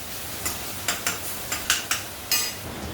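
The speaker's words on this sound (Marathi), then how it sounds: "आपला कांदा आणि लसूण परततोय" Onion and garlic being sautéed in a pan, heard as a quiet background sizzle with a series of short, crisp spatula scrapes and taps against the pan, roughly eight in uneven rhythm.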